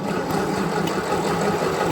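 An old V8 engine running at a steady idle, a dense low rumble that stays constant and fairly loud from start to finish with no talk.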